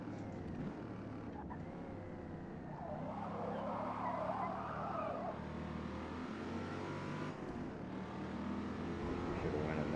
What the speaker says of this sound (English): Still locking the brakes up.